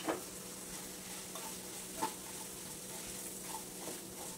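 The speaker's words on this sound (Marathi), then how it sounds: "त्याच्यामध्ये आपल्याला रवा घालायचा आहे, हा भाजलेलाच आहे त्यामुळे हा असाच घालायचा" Roasted semolina being stirred into sautéing vegetables in a pan for upma, soft continuous sizzling with a few spoon scrapes and taps against the pan, close and quiet, no voices.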